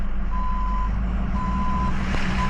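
Shuttle bus backing up, its reversing alarm sounding three steady evenly spaced beeps over a loud, constant diesel engine rumble from nearby traffic.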